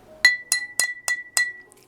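A drinking glass is tapped five times in an even rhythm, each clink ringing clear and bright with a sustained tone, close and alone.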